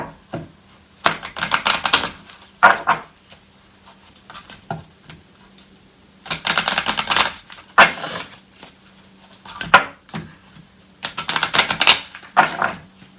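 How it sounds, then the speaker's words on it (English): Tarot cards are shuffled in several quick bursts of riffling and flicking, separated by short pauses with soft taps in between. "Okay, one more shuffle."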